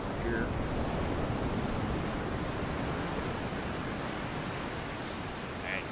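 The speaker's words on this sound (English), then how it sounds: "Sound effects for when you go underwater and when you're above water." Steady, broadband ocean water ambience from the Unreal Engine 5 Oceanology demo: a continuous rushing wash of waves and surf, even and fairly full throughout, with no voices.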